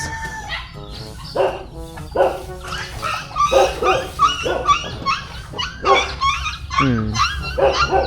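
A young puppy yips and barks repeatedly in short, high bursts, with some whimpering mixed in, fairly close and lively.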